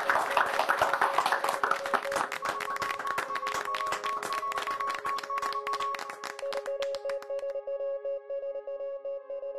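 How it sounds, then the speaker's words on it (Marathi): People clapping at a welcome and felicitation gathering: rapid, crisp hand claps rattle on steadily and are mixed with a ringing, echoing musical tone that lingers after the claps thin out near the end. "टाळ्या वाजून झालं सगळं"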